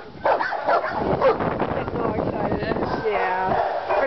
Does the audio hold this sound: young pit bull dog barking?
yes